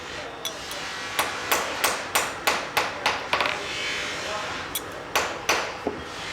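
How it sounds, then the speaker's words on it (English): A hammer taps a steel scissor blade to straighten a slight curve before hardening, in a scissor-making workshop. About a dozen sharp, ringing metallic strikes come in uneven clusters, close and clear over a low background hum. "I will take a little bit out by tapping it with the hammer"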